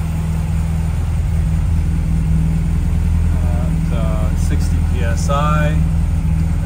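1956 MGA sports car engine idling with a steady low rumble close by, while people talk over it.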